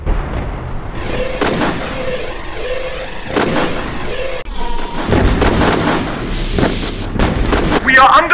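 Repeated heavy booms of mortar and artillery fire in a War of the Worlds video game, loud and dense, with bursts arriving every second or so among crackling gunfire and game voices.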